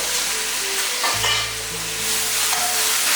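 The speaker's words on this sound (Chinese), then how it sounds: "翻炒均匀" Youtiao and luffa being stir-fried in a wok with preserved vegetable and a thickening sauce: a steady, loud hiss of hot oil with scraping and tossing strokes throughout, no talking.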